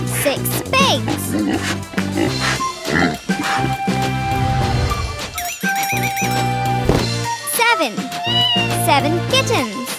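Kittens meow repeatedly in high, sliding cries over an upbeat children's song with a steady beat, the mews scattered through the tune, close and clear.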